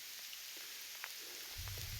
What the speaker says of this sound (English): In fact, this is small hail again.